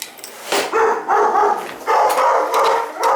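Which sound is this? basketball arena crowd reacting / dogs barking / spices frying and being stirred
dogs barking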